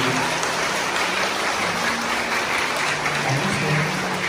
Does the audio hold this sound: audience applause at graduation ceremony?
yes